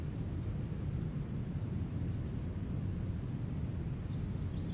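Rain and thunder from the biking video game Lonely Mountains Downhill: a dense, continuous low rumble with steady pouring rain that holds at an even, fairly loud level throughout.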